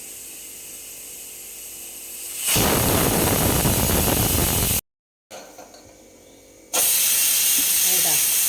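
Pressure cooker with jackfruit and chicken blowing off steam: two loud, sustained hissing whistle bursts close by, separated by a short break and a quieter stretch.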